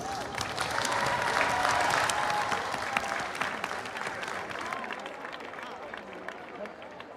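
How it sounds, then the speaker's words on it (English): An audience at an outdoor world culture festival applauds a Ukrainian folk music and dance group, with loud clapping that swells over the first two seconds and then gradually thins out, alongside crowd noise and faint voices. "Let's give them a big round of applause."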